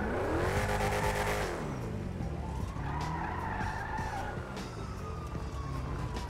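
A car in GTA 5 races at full throttle, its loud engine roaring and then shifting pitch as the tires skid in a long screech, a siren-like wail rising and falling beneath it.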